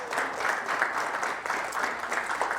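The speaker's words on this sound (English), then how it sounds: "Let's give her a little round of applause" Audience applause at a master class on performance held with Joe Gibbs Racing, a warm, steady patter of many hands clapping that swells slightly and continues throughout.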